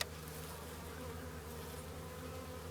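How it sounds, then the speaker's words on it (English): Honey bees buzzing steadily as they are moved into a hive, a continuous faint drone with no voices. "Some people just shake the bees out of the hole in the top."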